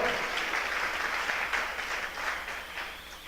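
Steady applause from a church congregation, continuous and fairly loud throughout, with no voices standing out.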